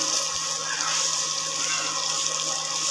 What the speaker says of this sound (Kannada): ಶಾವಿಗೆ ಮೇಲೆ ಬರುವಷ್ಟು ನೀರನ್ನು ಹಾಕ್ಕೊಳ್ಬೇಕು.